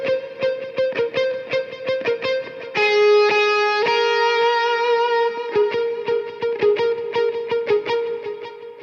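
Electric guitar intro lead played through a Line 6 Helix effects patch, a melodic line of quick picked notes with a sustained held passage in the middle, loud and close with processed, effects-heavy tone and no talking.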